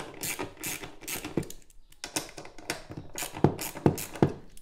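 A 10 mm ratchet wrench clicks in quick bursts while removing screws on a Kymco Super Dink 125 scooter, giving close, rhythmic pawl ratcheting with brief pauses between strokes.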